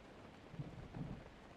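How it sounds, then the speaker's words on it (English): Thunderstorm in the video game Legend of Zelda: Breath of the Wild, with a faint steady hiss of rain and two soft low rumbles of thunder in quick succession, no voices. "can you stop storming for 2 seconds? All you do is storm!"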